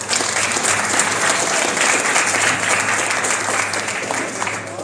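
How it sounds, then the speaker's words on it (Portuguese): A church congregation at a Baptist healing and deliverance service applauds steadily and loudly throughout, a dense wash of clapping hands with no break. "Vamos ver o pastor Cheryl aplaudindo ao Senhor Jesus."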